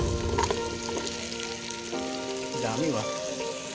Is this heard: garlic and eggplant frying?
yes